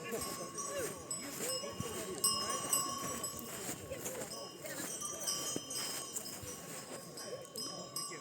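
Horses at a horse show high in the mountains, a faint clopping of hooves mixed into a busy outdoor scene with birds and people talking nearby.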